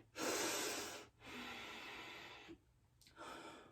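Deep yoga breathing: a long, loud, close inhale and exhale through the nose, then a short pause before the next slow breath begins, with no talking.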